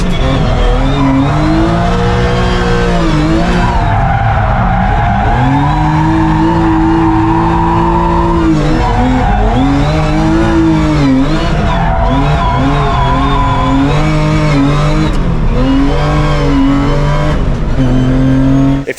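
A Porsche 996 rally car with a 3.6-litre engine fitted with a pop and bang map roars loud and close, revving up and down in sustained pulls with crackling overrun.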